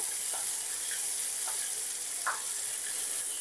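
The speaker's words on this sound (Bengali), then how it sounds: "আমি এটা 1 মিনিট মতো ভেজে নেব।" Chopped green chili and a small tomato fry in hot oil in a pan, giving a steady close sizzle with a few faint stirring clicks and no talk.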